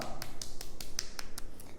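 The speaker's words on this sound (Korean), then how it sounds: "우리 찬양받게 합당하신 하나님께 영광의 박수 올리겠습니다" Hands clap in a children's Sunday church service, a quick, evenly spaced run of about eight sharp claps at moderate volume with no voices over them.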